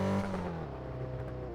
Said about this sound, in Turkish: araba sesine bak burada.